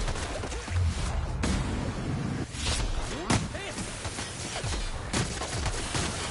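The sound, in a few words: gunfire in The Outer Worlds video game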